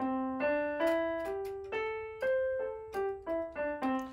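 A clear plucked or keyboard-like instrument plays a short pentatonic melody with a repeated C, about a dozen separate notes rising and falling, each decaying quickly, with no talking.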